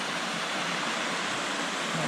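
A shallow water cascade, only a few inches deep, tumbles into a small pool, giving a steady rushing wash of flowing water, close and even, with no voices.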